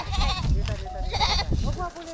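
A goat bleats in short calls during a chase on a farm, while several people talk and shout over it at close range.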